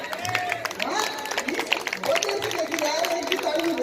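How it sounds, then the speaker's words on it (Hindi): Audience applause at a Hindi comedy and romance poetry gathering (kavi sammelan) for poet Ashish Panwar, a dense, steady clapping crowd mixed with voices and murmuring throughout. "एक बार जोरदार ताली हो जाए"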